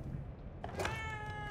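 A cat meows in The Evil Within 2, a short, close tonal cry rising out of low game ambience and sustaining with a bright wavering pitch.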